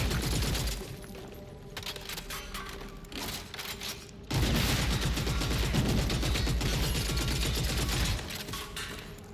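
Gunfire in Gears of War: E-Day cracks in rapid automatic bursts, pausing briefly and then returning as sustained loud machine-gun fire with mechanical clatter, with no voices.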